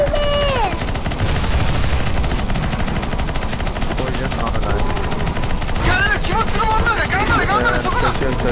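Rapid automatic gunfire in CS:GO aimed at a boss, dense bursts and crackling shots continuing throughout at close range, with game effects and voice chatter mixed in.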